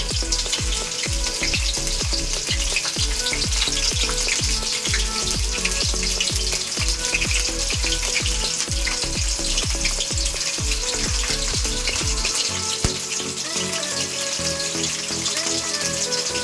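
Vegetables and meal maker chunks fry in hot oil for a homemade shawarma, giving a steady, loud, continuous sizzle with crackling pops throughout and no talking.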